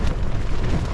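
Strong wind gusts batter a tent at a tarn in Snowdonia. They make a heavy, continuous low roar and buffeting rush with no pause.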